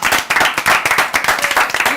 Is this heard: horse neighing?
no